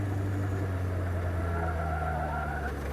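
A car engine holds a steady droning tone as the driver eases slightly off the throttle while the car understeers, continuous and fairly close with no speech.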